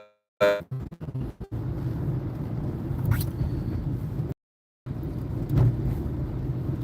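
Low engine and road rumble fill the cabin of a moving car, steady and close, broken by a few clicks and rustles at the start and a brief dropout midway.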